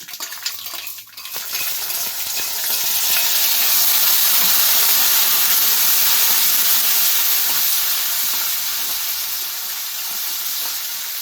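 Tempering for akki shavige bath crackles in hot oil in a pan as a loud, dense hiss that swells and stays steady, with occasional sharp pops and a metallic clink near the start.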